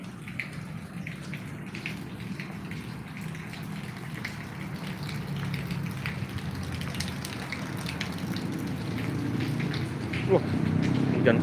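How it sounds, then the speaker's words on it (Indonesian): Steady rain patters and hisses close by outside a bus terminal in Palembang, slowly growing louder, with faint voices in the background. "Wah, hujan panas ini."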